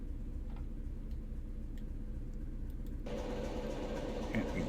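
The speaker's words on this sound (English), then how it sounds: "There you go, hear the engine start up." A Class 73 diesel locomotive engine in the Train Simulator Classic game cranks and catches, then settles into a steady running rumble with a brighter mechanical whine after the start, carrying on alone without talk.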